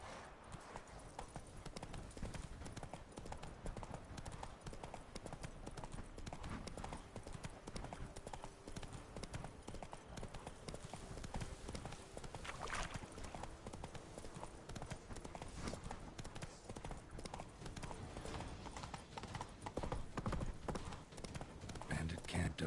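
The horse Roach gallops in The Witcher 3, with steady, rapid hoofbeats close by throughout and faint occasional ambient sounds beneath.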